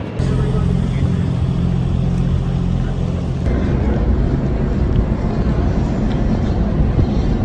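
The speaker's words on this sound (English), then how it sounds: "We are on the bus headed to Magic Kingdom to go see Daddy" Inside a moving bus heading to Magic Kingdom, a steady loud engine drone and road rumble fill the cabin, with a low hum shifting partway through.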